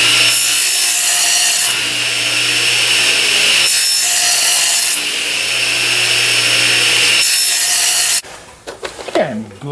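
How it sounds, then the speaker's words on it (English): Repeated bursts of sawing as kerfs are cut in wood strips for the side-to-top and back bracing of a dulcimer, three long close strokes separated by short pauses, then brief handling noise at the end. "I'm cutting the kerfs for the side to"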